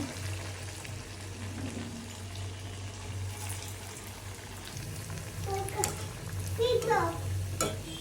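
Chicken pakoras go one by one into hot oil and sizzle steadily, with a few splashes and clinks near the end; people, including a child, talk quietly in the background.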